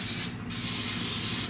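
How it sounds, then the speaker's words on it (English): Non-stick cooking spray hisses into the inside of a regular-size slow cooker in two close bursts, a short one and then a longer steady one, loud and alone. "spray the inside of this with non-stick spray"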